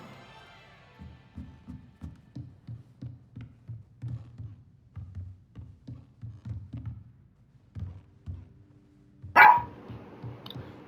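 A dog barks in the video game Hogwarts Legacy, with a run of short, soft barks followed by one louder, sharper bark near the end against a quiet background.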